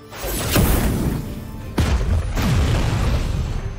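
Loud whooshing fire blasts and booming bursts from Warhammer 40,000: Chaos Gate - Daemonhunters erupt in quick succession, two big rushes about a second apart, over a constant rumble.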